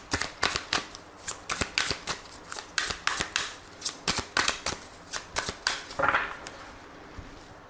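Tarot cards are shuffled in a steady run of crisp, close riffling bursts repeating roughly every half second, loud and alone with no talking.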